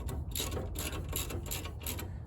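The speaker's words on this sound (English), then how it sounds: "loosen the castle nut" A hand ratchet with a 17mm socket loosening a castle nut on a car, quick repeated clicking strokes of the pawl, close and fairly quiet against a low background hum.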